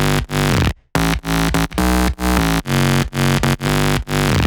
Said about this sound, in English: The name of the game for this bass sound is definitely distortion.